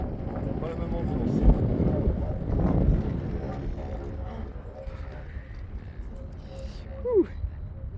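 Icy headwind buffets the microphone during a descent in the Pirin mountains near Bansko, Bulgaria, a steady low rushing roar with gusty surges throughout.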